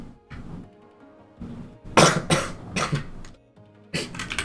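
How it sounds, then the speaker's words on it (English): A person recovering from Covid coughs several times in short harsh bursts, a couple of lighter throat-clearing sounds coming before a loud cluster of coughs and one more at the end, close to the microphone. "I need to cough"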